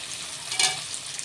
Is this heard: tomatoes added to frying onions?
yes